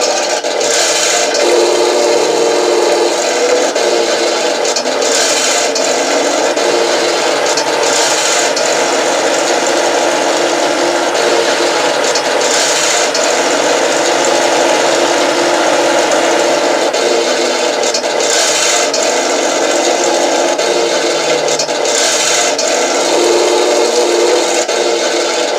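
The tracks and chains of a Hetzer tank move continuously, a loud, steady grinding and rasping clatter with no pauses or talk.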